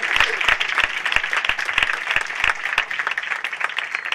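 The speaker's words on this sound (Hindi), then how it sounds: "आए उस घर के लिए जोरदार ताली बजाएंगे" A church congregation claps loudly together during a Hindi worship sermon: dense, steady applause with sharp individual hand claps standing out, sustained close and bright for several seconds.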